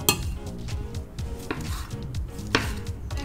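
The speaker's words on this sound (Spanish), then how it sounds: "vamos a continuar picando finamente el jitomate" A kitchen knife finely chops tomato on a cutting board, a quick irregular series of crisp close taps, some louder strikes standing out, with no voices.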